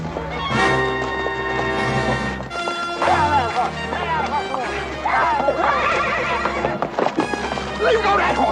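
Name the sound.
horse neighing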